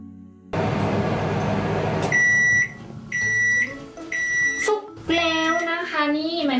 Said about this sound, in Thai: นี่ไมโครเวฟร้องเรียบร้อยแล้ว